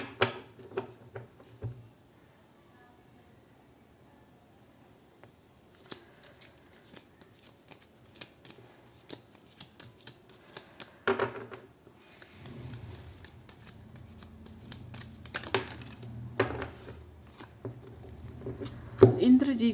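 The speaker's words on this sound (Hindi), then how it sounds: "इंद्र जी का कार्ड आया है, ओम इंद्राय नमः।" Oracle cards are shuffled and drawn by hand, with soft intermittent riffling and patting that grows busier toward the end, and a voice speaks in between.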